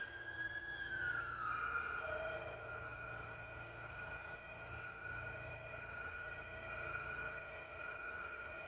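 A siren wails continuously at moderate distance, its tone sliding slightly before holding a steady, drawn-out pitch against a low background rumble.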